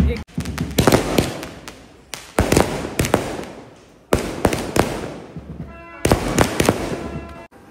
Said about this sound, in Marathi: फटाका वाजत